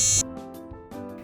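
A tinyFinder tracker giving a low beep as its reset button is held, a short tone cutting off sharply, followed by faint hum and rustling.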